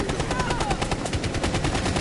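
Rapid automatic gunfire in Rainbow Six, a dense close burst of shots in steady rhythm lasting throughout, with no talk over it.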